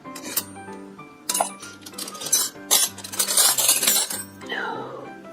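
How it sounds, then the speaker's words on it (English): Silver-plate spoons and flatware clatter and clink as pieces are tossed onto a pile, several bright metallic jangles in irregular bursts, close and fairly loud. "this is just a regular spoon. It's gonna go in the 50-cent pile"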